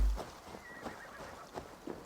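A horse in the game Assassin's Creed Valhalla gives a neigh and a few clip-clopping hoof steps, moderately close, with no talk over it.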